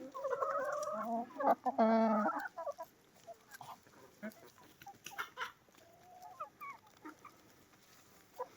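Chickens in a coop give soft clucks and a short bright cackle up close, with scattered rustling and shuffling in between.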